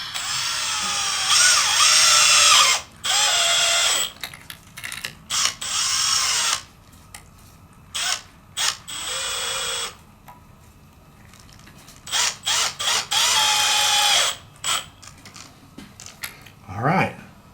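Bursts of a powered driver gun snugging clutch cover bolts on a 2022-26 Suzuki Hayabusa during a clutch conversion kit install, several short loud whirring runs separated by pauses, with ratcheting clicks and someone talking between them.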